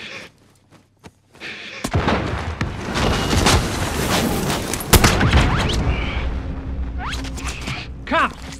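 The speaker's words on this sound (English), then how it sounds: "I'm taking fire!" Gunfire and explosive booms ring out during a battle royale video game match, a sudden loud burst followed by dense, continuous shooting and crashes, with a player's voice cutting in briefly near the end.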